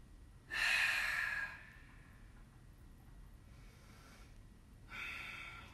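Deep yoga breathing during a twisting pose: a long, loud airy exhale, a quieter stretch of soft breath, then another strong breath starting near the end, over faint room noise.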